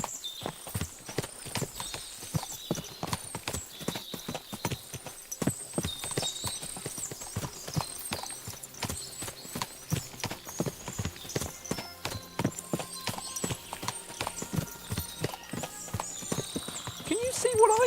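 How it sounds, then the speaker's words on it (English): Horses' hooves clip-clop steadily in Kingdom Come: Deliverance II, several animals walking together close by, with an occasional whinny and a voice talking over them. "What a lot of horses."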